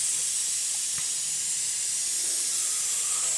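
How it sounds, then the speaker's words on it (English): An airbrush spraying paint onto a scale model float plane gives a steady, close hiss of air with a slightly squishy, sputtering edge, continuous and even throughout with no voices. "my airbrush is a bit noisy this morning, I don't know why, but making a nice squishy noise"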